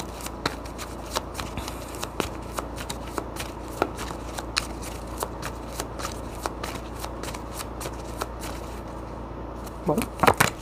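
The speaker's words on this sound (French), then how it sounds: "Je prends les cartes à l'endroit, s'il vous plaît." Tarot cards being shuffled at close range, a steady run of crisp riffling snaps and soft slides that continues throughout, with a brief cluster of louder handling clicks near the end; no one speaks.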